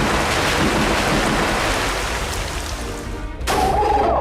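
A Storm Rush attack effect from the video game Manamon 2 gives a loud, dense stormy roar like rain and rumbling thunder, then a sharp burst and a ringing tone at the end.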